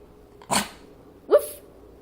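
A dog gives two short, sharp barks about a second apart, close by in an otherwise quiet room.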